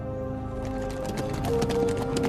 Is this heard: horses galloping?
yes